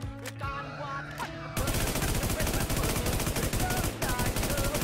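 Automatic gunfire from the video game Warzone, starting with a few scattered shots and then breaking into a loud, sustained rapid burst that carries on, with a brief pause, to the end of the clip.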